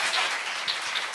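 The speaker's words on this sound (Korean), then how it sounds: "네, 선생님 박수 한번." Applause from an audience at a history forum lecture, a brief dense patter of many hands clapping at moderate, fairly even loudness with no talk over it.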